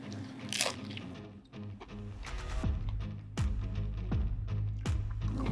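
Crisp crunching bites into a Tostitos scoop chip loaded with buffalo cheese dip, chips made extra crispy in a smoker; several sharp crunches follow in steady succession, close and fairly loud.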